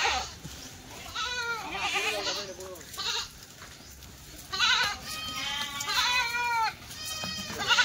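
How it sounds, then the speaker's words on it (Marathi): Kathiyawadi goats bleat repeatedly nearby, several overlapping wavering calls in quick succession, loud and close with no talk. "हे बघा शेळ्या"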